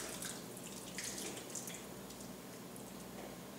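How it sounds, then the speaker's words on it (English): A liquid mixture poured over a raw chicken, a soft continuous trickling and splashing that runs close and fairly quiet, with no talking. "just pour that over the chicken as well"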